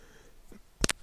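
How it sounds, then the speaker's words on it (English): A single short cough, two sharp close bursts in quick succession, breaks the quiet of a spoken history lecture on World War II, with no other sounds around it. "Excuse me, I had to cough."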